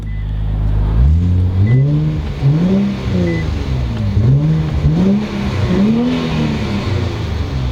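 An Infiniti Q60 S Red Sport engine fires up with a burst after a push-button start, then revs loudly several times in repeated rising-and-falling sweeps, close and dominant.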